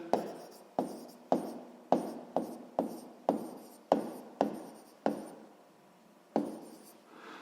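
A pen writes numbers during a sixth-grade maths exercise on a number line, a dozen or so close scratchy strokes in quick bursts with short pauses between them.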